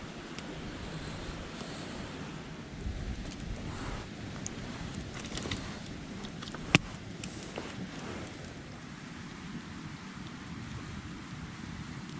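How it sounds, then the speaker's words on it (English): A creek flows past an autumn bushcraft camp beside a campfire, a soft, steady wash of water noise, faint and distant, with no talking. "enjoying the sounds of the creek at the bushcraft camp"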